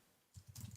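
Typing on a computer keyboard, a few soft, quick key clicks close by after a brief quiet moment, faint and alone.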